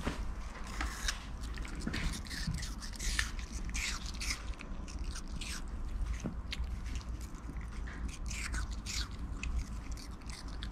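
A Maltese dog chews on a piece of apple close by, giving steady soft bites and wet munching with small scrapes throughout, and no words are spoken.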